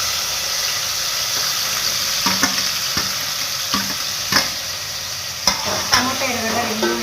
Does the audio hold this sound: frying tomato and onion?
yes